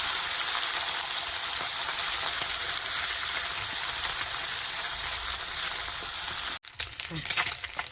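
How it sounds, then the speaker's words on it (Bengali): Fish fries in hot oil in a home kitchen, a loud continuous close sizzle that cuts off sharply near the end, followed by a few clattering knocks. "তেলটা গরম হয়ে গেছে, মাছ তুলে দিচ্ছি। মাছটা ভেজে নেব।"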